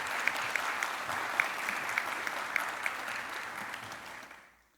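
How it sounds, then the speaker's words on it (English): A hall audience applauds at a national scholarships medal award ceremony, steady sustained clapping at moderate volume that tapers off at the end. "Ladies and gentlemen, let's give Master Beatrice a round of applause."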